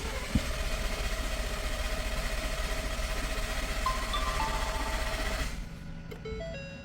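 A 2021 Ford Bronco with the 2.7L V6 cranks over without firing during an oil change, the starter churning in a steady rapid rhythm for several seconds, close and loud, then cutting off.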